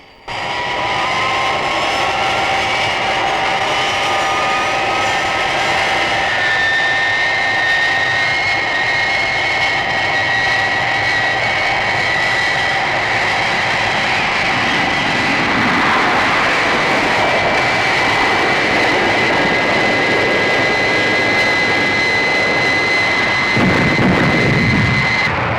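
A jet aircraft engine in flight roars steadily and loudly throughout, a dense sustained drone with whining tones that slowly shift in pitch, with no voices over it.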